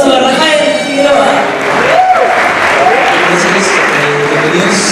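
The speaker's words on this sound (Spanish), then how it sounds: "Un aplauso a Rafael Figueroa." An audience applauds for Rafael Figueroa at an event at the Teatro Leaf, steady, dense clapping filling the whole stretch at a loud, even level with voices mixed in underneath.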